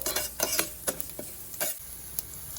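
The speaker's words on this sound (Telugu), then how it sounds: "కరివేపాకు ఫ్రై అయిన వెంబడే గార్లిక్ వేసేసుకోవాలి" Curry leaves and garlic frying in hot oil, a crackling sizzle broken by repeated sharp bursts and spoon stirring strokes against the pan, close and without voices.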